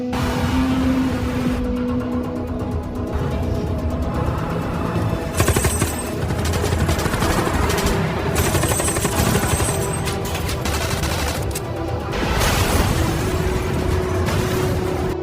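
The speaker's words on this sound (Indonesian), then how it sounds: "terjadi kembali kontak senjata karena dari dalam mobil musuh melancarkan serangan" Heavy gunfire rattles through a movie gunfight around an enemy car, with long automatic bursts, sharp single shots and booming blasts repeating loud and close over roughly fifteen seconds.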